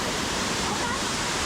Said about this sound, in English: So this is the second waterfall.